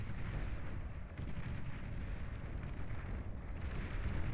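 Chain of wind turbines blowing up one after another in the real-time strategy game Beyond All Reason, during an 8v8 deathmatch: continuous dense low rumbling blasts and crackle, loud and sustained with no pauses.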